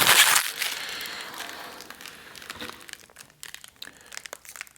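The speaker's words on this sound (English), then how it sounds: "Just had to peel off the plastic." Protective plastic film peels and crinkles off a new crypto mining PC case. A loud crackle at the start gives way to quieter, scattered crinkles and rustles close by.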